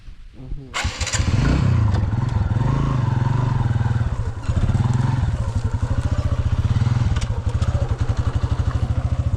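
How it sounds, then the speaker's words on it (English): A five-gear motorcycle starts up and rumbles loud and close, its engine settling into a steady chugging idle with slight revving and clattering throughout. "the good thing about my bike, it's 5 gear, but it consumes a lot of fuel or gasolino"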